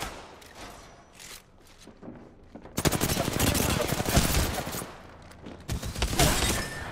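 Video game gunfire: sparse shots at first, then a loud sustained burst of rapid automatic fire, a pause, and another burst near the end.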